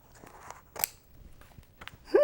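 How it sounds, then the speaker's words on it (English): Scissors snip paper in a few short, separate cuts, fairly close and quiet, with brief pauses between the crisp clips. "And she cut, and she cut and cut and cut a nice big window."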